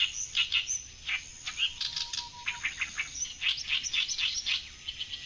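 An Oriental reed warbler sings from reedbed in a bird survey, pouring out rapid, harsh chattering phrases in a steady stream, fairly close and clear over a faint low background hum.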